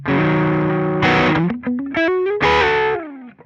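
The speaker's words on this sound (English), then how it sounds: "That's just a really great overdrive." Distorted electric guitar chords and single notes through a Line 6 HX Stomp Heir Apparent overdrive, thick and saturated with a crunchy tone, played loud and close with short pauses between phrases.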